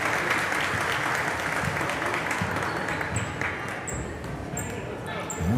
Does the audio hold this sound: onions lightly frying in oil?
no